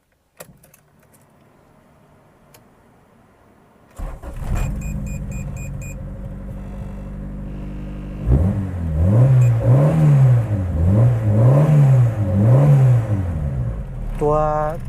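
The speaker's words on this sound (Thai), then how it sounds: "เดี๋ยวลองมาฟังเสียงตัว เครื่องยนต์กันนะครับ" Quiet at first, then a Honda D15B turbocharged engine starts with a jangle of keys and idles before revving up and down repeatedly in loud, rhythmic surges.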